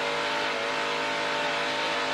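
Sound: NASCAR race truck engine revving as driver hits the gas

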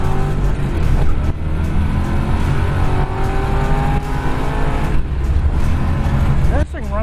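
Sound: 1963 Corvette Split Window engine accelerating through gears

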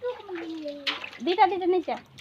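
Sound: child splashing water

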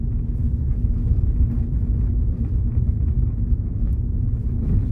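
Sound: Hyundai HB20S car driving over an irregular road surface

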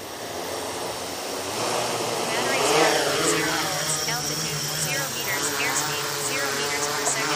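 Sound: APM 2.8 drone taking off

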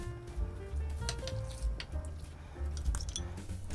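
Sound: pouring red wine pickling sauce over radish

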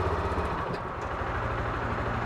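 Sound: Massimo TBOSS550 engine idling around 1500 RPM

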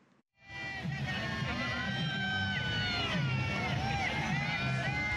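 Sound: spectators cheering at water ski festival in Manado

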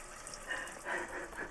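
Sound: running water from tap in campervan water system

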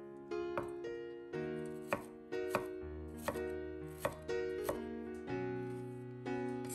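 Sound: knife chopping garlic cloves into small pieces

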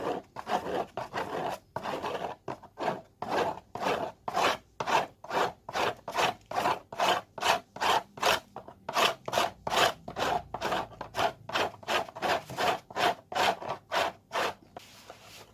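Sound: grating a bar of soap into powder with a grater

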